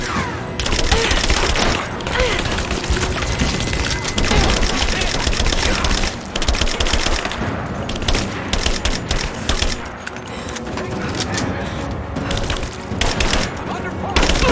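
Sustained gunfire rattles through a firefight in the video game Rise of the Tomb Raider, with loud, dense bursts of automatic shots cracking almost without pause and brief voices shouting under the barrage.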